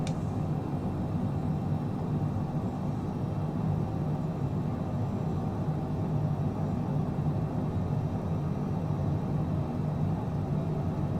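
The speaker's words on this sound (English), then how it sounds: "Enjoy the sound of the Global Express." Bombardier Global Express business jet engines spooling to full takeoff power on the runway in Microsoft Flight Simulator 2020, a steady, loud, dense roar with low rumble that holds unchanged throughout, no voices.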